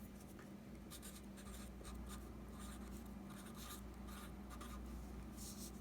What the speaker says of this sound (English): Let's go ahead and write that on our paper.